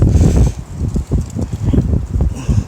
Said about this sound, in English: it's getting extra windy